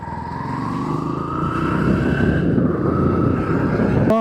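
A motorcycle on a long highway ride with its front fork leaking oil, engine droning steadily and rising slightly in pitch as it holds speed, loud and close, with rushing wind and no talking.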